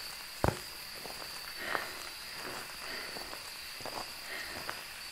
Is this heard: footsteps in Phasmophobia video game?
yes